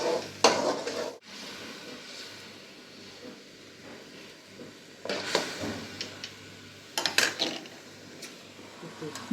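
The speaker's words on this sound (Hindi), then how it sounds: "मसाला मैं भून रही हूँ जी।" Ground spices roasting in a pan on a home kitchen stove give a low, steady sizzle, broken by several sharp scrapes and clinks of a spoon stirring against the metal pan.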